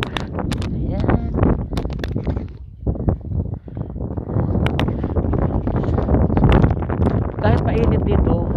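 Strong wind buffets the microphone on Mt. Mahayag in Candijay, Bohol, loud low rumbling gusts running under people talking nearby.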